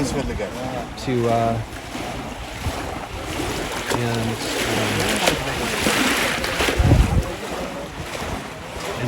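Water rushes steadily through a coffee washing and grading channel on an Ethiopian farm in Shakiso, Guji, a continuous broad gush with breezy wind noise and occasional voices and tones mixed in.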